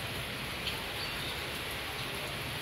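Rain falls steadily outside while a cat waits indoors, a soft, even patter of drops heard from a short distance with no other sounds standing out.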